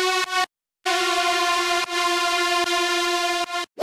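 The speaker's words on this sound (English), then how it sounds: "I have this super saw lead, which is basically just emphasizing certain notes" A super saw synth lead picks out emphasized notes, its layers panned in different directions, sustaining as bright, buzzy harmonic tones in short phrases with brief gaps, loud and alone.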